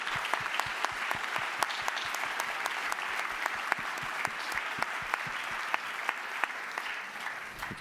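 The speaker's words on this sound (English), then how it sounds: "And now a big round of applause for all of you." A conference audience breaks into steady applause, many hands clapping evenly at moderate distance for several seconds before easing slightly at the end.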